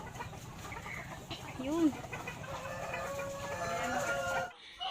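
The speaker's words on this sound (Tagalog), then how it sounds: "For now, ito lang muna mga Black Australorp." Black Australorp chickens raised free range cluck and call softly at close range, with one rising squawk near the middle, while a person speaks briefly over the birds.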